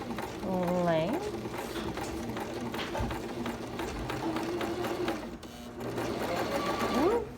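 A sewing machine runs through a princess seam at regular stitch length, a fast continuous close whir with the needle's rapid ticking, while a person talks over it.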